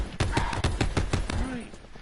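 Rapid automatic gunfire in Call of Duty: Black Ops 4, about a dozen evenly spaced, punchy shots in quick succession that fade into quieter game sounds.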